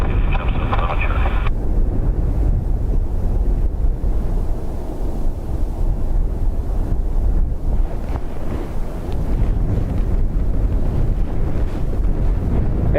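Strong wind blows at Dublin Airport, a loud, steady roaring buffet across the microphone that persists throughout.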